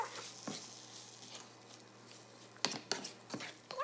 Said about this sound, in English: Now you have to add the pasta sauce to the meat and mix.